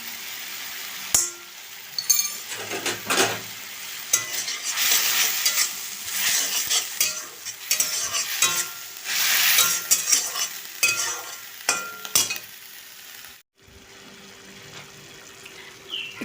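Pinch of asafoetida dropped into hot oil for a bottle gourd curry, a steady close sizzle and fry with spoon stirring and light clinks, fading out near the end.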